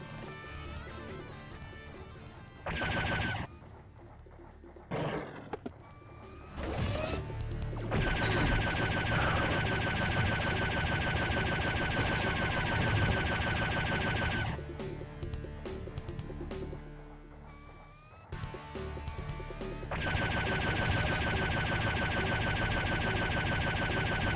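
Dense, rapid bursts of gunfire in the video game Serious Sam Classic: The First Encounter rattle repeatedly over a busy backdrop of game music and effects, pausing briefly before resuming.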